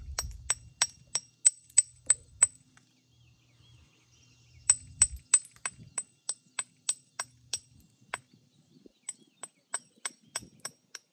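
Agatized coral is knapped into a six-inch Newnan knife, producing runs of sharp, evenly spaced clinking strikes in three bursts separated by brief pauses, close and crisp, with faint low handling noise between.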